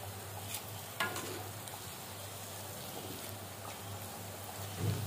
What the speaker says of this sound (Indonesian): Kita goreng sampai dianya benar-benar matang dan kuning keemasan kayak gitu ya teman-teman.